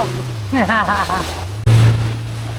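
Fishing boat motor drones steadily on open water off Santa Ana, Cagayan in the Philippines, a constant low hum under a man's speech, with a brief dropout then the engine surging back louder.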